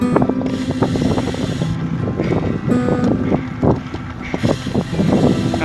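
Headwind buffets the microphone during an outdoor ride on a trip toward Na Chueak, a steady rushing roar mixed with mechanical clicks and rattles. It is loud and continuous, with no speech.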